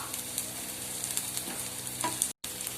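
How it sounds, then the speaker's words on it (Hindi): Onions sizzle steadily in a pan for a rava idli recipe while a utensil stirs and scrapes them, a continuous close frying hiss with a brief gap near the end. "ब्राउन कर लेना है और हमें इसको अच्छे से घुमाते रहना है जिससे कि जले ना।"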